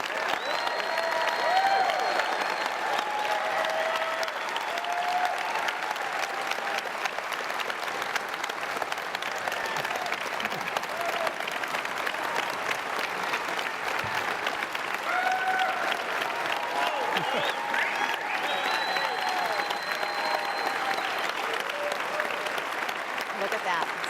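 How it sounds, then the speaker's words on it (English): A crowd gives a standing ovation at a Texas political event, with steady sustained applause and scattered cheers throughout, dense and continuous. "Standing ovation from the crowd here"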